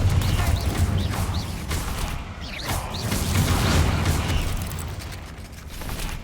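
A Confringo fire spell cast in Hogwarts Legacy, heard as a loud whooshing burst with a dull boom, followed by further fiery whooshes and low rumbling over steady game ambience.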